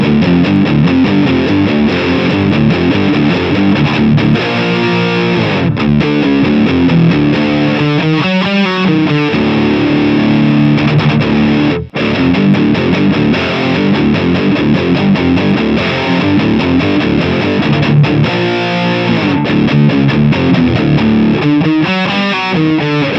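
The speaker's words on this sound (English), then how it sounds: "we're gonna crank the 87 drive, get some big distortion for you guys" A heavily distorted electric guitar, a humbucker pickup through an 87 drive pedal, plays chugging riffs and sustained chords, loud and continuous, with a short break near the middle.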